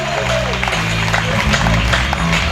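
Church congregation at a local CBFC service in Lisala applauding together, a steady, dense clapping that fills the room for a few seconds, with low sustained tones running underneath.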